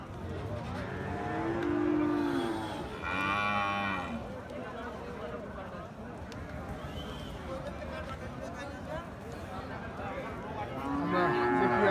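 Austral crossbred bulls low and moo at a busy livestock market, with loud, drawn-out calls rising over steady crowd chatter and people talking nearby.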